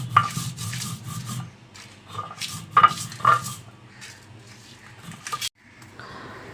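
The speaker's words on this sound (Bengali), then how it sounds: "তো এখন হচ্ছে লাউ পাতার ভর্তাটা বেটে নিচ্ছে আমাদের শেফালি" Bottle gourd leaves are ground into a paste with chilli and onion for lau pata bhorta, giving repeated scraping and rubbing strokes with sharp clinks in between, close and fairly loud, with no talk.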